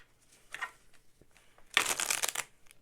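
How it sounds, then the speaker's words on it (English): Tarot cards being shuffled by hand, two bursts of papery riffling, a short soft one followed by a louder, longer flurry, close up with no talking. "I'm also like embarrassed of how bad I am at shuffling"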